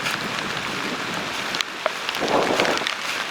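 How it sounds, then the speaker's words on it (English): Heavy rain pours steadily in the woods during deer season, a dense loud hiss with a few sharper drops and a gust of wind swelling near the end. "As you can see, it's raining like crazy right now."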